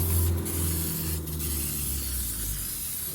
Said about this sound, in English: And just spray it down.